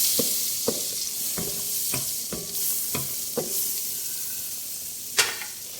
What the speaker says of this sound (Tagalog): Maglalagay na po tayo ng butter. Ayan. I-melt natin ang butter.